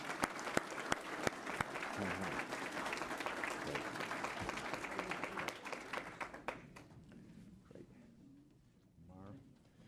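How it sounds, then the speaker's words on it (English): A group applauds at a volunteer recognition ceremony with sharp, steady clapping for several seconds that then thins out and fades, while people talk over it near the end. "Now, group applause."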